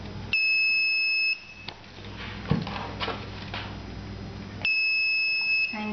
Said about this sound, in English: It alerts through buzzer.